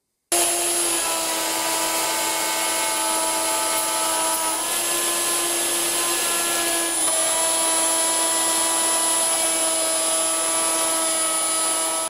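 A woodworking milling machine spinning up and running steadily while cutting oak for a TV and bookcase unit, a loud continuous high-pitched whine with a slight pitch shift partway through, no talking.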